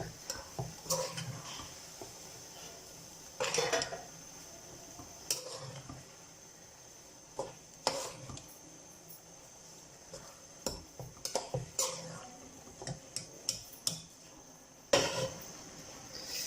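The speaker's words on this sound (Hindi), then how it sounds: "तो अब इसे अच्छी तरह से मिक्स कर लेंगे पूरे" A spoon stirs grated carrots and a litre of milk in a pot for gajar halwa, making irregular close clinks and scrapes against the metal with soft wet squishes between them. No one speaks.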